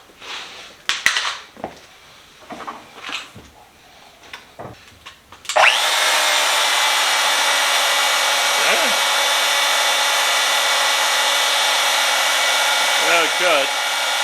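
A Dewalt DWM120 portable band saw starts up after some handling clatter and then runs steadily as it cuts, a loud continuous whining motor drone with faint squeaks near the end and no speech.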